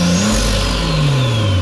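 A 2021 Subaru STI engine held at a rising rev, its turbo whistling high and clear above a steady, close, loud engine drone with a falling pitch.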